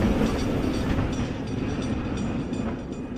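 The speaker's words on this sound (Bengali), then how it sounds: "প্রবেশ করলো সেই ট্রামের ঢং ঢং ধ্বনি" A tram's steady rumbling roll with a faint rattling rhythm fills the short passage, loud and close at first and easing slightly toward the end, with no voices.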